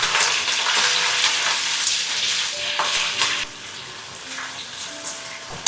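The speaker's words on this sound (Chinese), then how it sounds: "鍋裡放少許底油，把醃制好的雞肉平鋪進鍋， 下入薑片，煸出香味。" Marinated chicken and ginger slices frying in a little oil in a wok, a loud steady crackling sizzle with bubbling spatter throughout and a few scraping sounds near the end.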